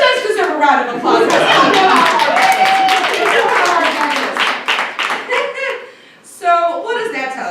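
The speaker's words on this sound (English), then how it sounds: "that does deserve a round of applause" Applause and clapping from a crowd fill most of the clip, mixed with chuckles and a voice, fading briefly before a final burst.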